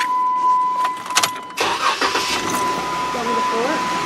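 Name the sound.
Jeep JK engine starting with stock exhaust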